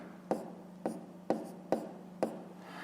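A pen writes fractions by hand for a fifth-grade maths exercise, making five short, evenly spaced strokes that sound close and quiet against a low steady hum.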